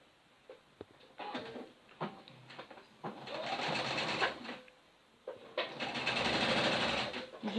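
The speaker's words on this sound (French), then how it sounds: "je peux fixer à la machine le jabot, comme ça il ne bouge pas" A sewing machine stitches a jabot onto a baby dress in bursts of rapid mechanical whirring, stopping and starting with short pauses between runs.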